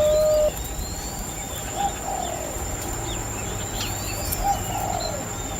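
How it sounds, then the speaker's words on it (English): Spotted dove, also called mountain dove, in Jharkhand, giving soft low coos from a short distance, a couple of brief calls over steady outdoor ambience with faint insect chirping and other birds. "These doves are actually called mountain doves or spotted doves."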